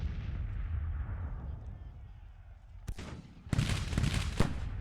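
Artillery fire in the Civil War strategy game Grand Tactician: The Civil War, a sustained low rumble of distant cannon broken by a sharp near blast and then a louder, denser barrage of booms toward the end.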